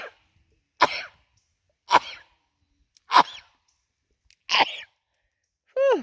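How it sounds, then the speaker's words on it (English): A person sneezes repeatedly outdoors in a garden, five or six sharp, explosive bursts spaced about a second apart, close and fairly loud with silence between them. "Ooh, I'm going to sneeze."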